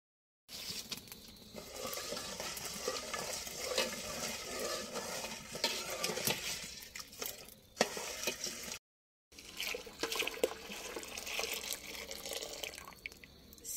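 Jaggery melting over heat in a pot, with wet bubbling, dripping and the scrape of stirring running continuously, pausing briefly once; no talk.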